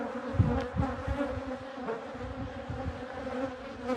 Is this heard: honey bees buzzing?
yes